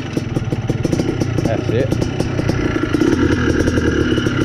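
A Yamaha Blaster 200cc quad engine fires up and settles into a rapid, rattling putter, loud and close, with brief short speech over the running motor.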